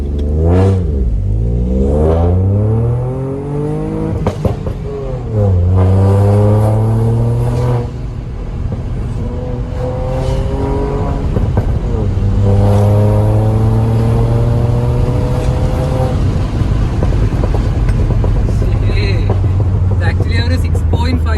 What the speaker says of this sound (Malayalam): ഇപ്പം ആക്ച്വലി എക്സോസ്റ്റ് ഓൺ ആയിട്ടുണ്ട്.